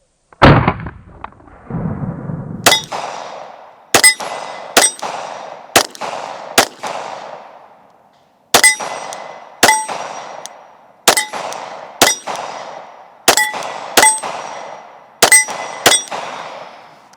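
Glock 9mm pistol firing iron-sighted shots at steel targets, about a dozen sharp reports each followed by a ringing metallic clang, in spaced singles and quick pairs, loud and close with no talk.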